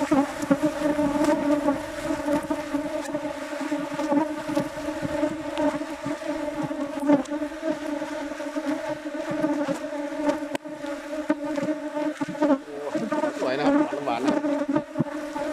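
Wild cavity-nesting honey bees buzz at their nest, a dense, steady droning hum with a layered tone, close and continuous, with occasional louder passes of individual bees.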